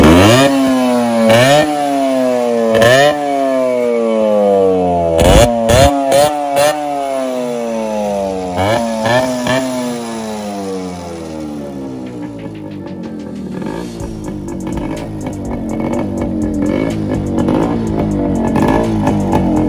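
A Yamaha RX100 motorcycle engine, jet black and fitted with a loud muffler, starts and revs repeatedly in sharp rising bursts, then settles into a rough, rattling two-stroke idle, close and loud with no talk.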